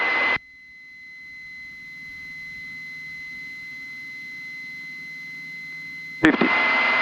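Aircraft engines at full power during the takeoff roll make a steady, loud droning hum with a sustained tone, cut off by brief electronic beep bursts at the start and end.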